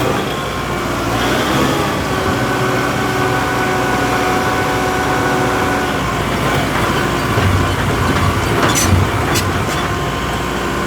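A subcompact tractor fitted with lightweight pallet forks drives around outdoors, its diesel engine chugging steadily at close range, with faint clanks and rattles rising near the end.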